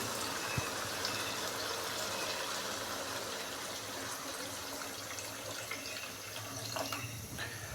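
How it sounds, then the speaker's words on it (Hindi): Steady rush of water poured from a glass, splashing continuously into a cooking pot of fried potatoes and wadiyan, fairly loud and close, with no talking. "अभी मैं इसके अंदर 2 से 3 गिलास डालूंगा पानी के।"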